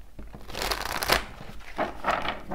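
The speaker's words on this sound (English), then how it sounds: "So let's get a good shuffle here first." Playing cards are shuffled up close, with riffling, flapping bursts and soft rustles in a couple of quick passes.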